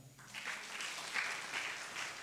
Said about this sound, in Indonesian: Bisa tepuk tangan?